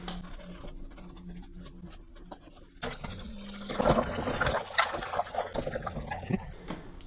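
Running tap water splashes and trickles as pressure washer wheel parts from a Karcher K4 Premium are rinsed in a sink, with patters and drips over a steady liquid wash.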